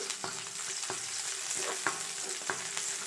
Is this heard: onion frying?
yes